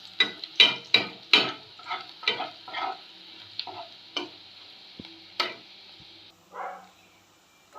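Curry leaves dropped into hot oil with browned onions in a pan, giving a run of sharp crackling pops and spits, dense at first and then thinning into scattered crackles over a steady low sizzle, close by with no talk.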